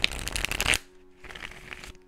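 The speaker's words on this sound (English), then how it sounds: "Shuffle these up pretty good." A brisk riffle of cards being shuffled for under a second, then quiet handling and soft rustling.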